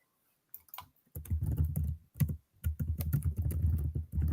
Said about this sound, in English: I hear 7 people typing.